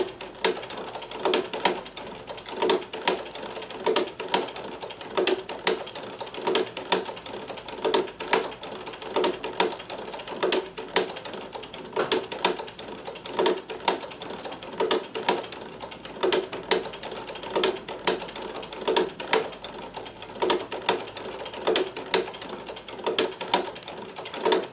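Singer 237 sewing machine running with a hemstitcher attachment, a steady rapid mechanical clatter of needle and gears stitching continuously, close and unbroken throughout.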